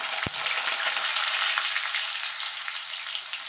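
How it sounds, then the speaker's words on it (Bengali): Cut potato and pointed gourd hitting tempered oil for a vegetarian dalna, with a brief thump at the start and then a steady, dense sizzle and crackle that carries on close and loud, with no talking. "এবার আমি যে আলু পটলটা কেটে রেখেছিলাম সেটা দিয়ে দেবো"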